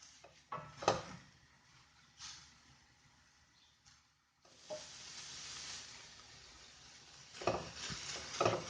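Beef filling with garam masala powder and fresh coriander being stirred in a pan, scraping and clinking in bursts with a soft sizzle between strokes, close and fairly loud.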